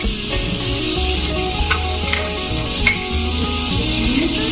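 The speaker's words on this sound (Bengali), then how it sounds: "সব মশলা একসাথে দিয়ে তারপরে কষিয়ে নেওয়া হচ্ছে।" Ground spices such as cumin and garam masala sizzle steadily in hot oil in a pan while being sautéed, with a loud continuous frying hiss and occasional faint scrapes of stirring, no voices.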